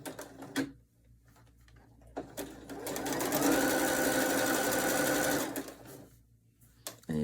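A sewing machine runs a zigzag stitch along fold-over elastic on a triangle top. After a few short starts it settles into one sustained, loud whirring run of about three seconds, then stops, and a brief burst follows near the end.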